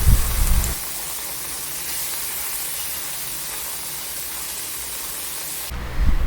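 A steady, even hiss of chilies frying in hot oil runs throughout, with brief louder bursts at the start and end.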